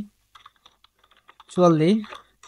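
Computer keyboard being typed on while writing a message to Facebook support in a live chat, a close run of scattered light key clicks followed by someone speaking briefly.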